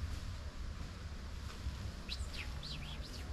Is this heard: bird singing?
yes